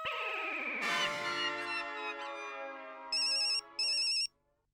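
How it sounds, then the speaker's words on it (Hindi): An electronic phone ringtone chimes in two short, loud bursts near the end, following a fading musical tone; no one speaks. "जेठिया का फोन"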